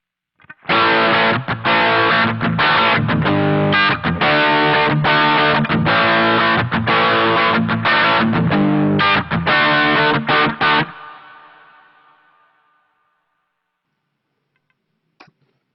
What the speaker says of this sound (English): Let's also put a little reverb on it now so you can hear it as well.